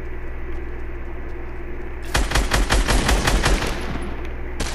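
Video game gunfire: after a quiet hum, a rapid burst of loud automatic shots rattles for about two seconds, followed by a lone shot near the end.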